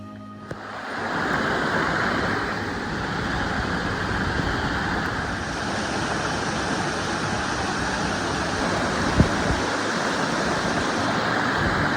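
A mountain stream rushes steadily below a hiking trail, a loud, continuous broad roar of flowing water with only a brief knock partway through.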